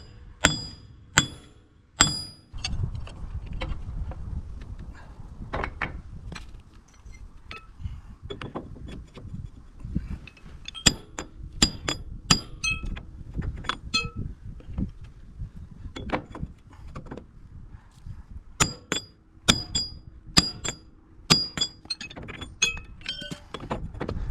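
A driver tool seats a seal on the RCV axle wheel bearing of a rear-steer buggy. Sharp metallic taps and clinks repeat irregularly up close, with gaps of quiet between the hits.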